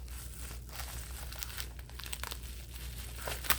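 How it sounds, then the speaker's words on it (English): Packaging from an Amazon order being unwrapped, a steady close crinkling and crumpling with a few tearing bursts and a sharper crackle near the end, with no talking. "I'm going to unwrap this."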